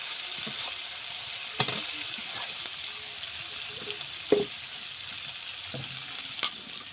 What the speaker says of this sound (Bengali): আমার মাছ কষা সুন্দরভাবে হয়ে এসছে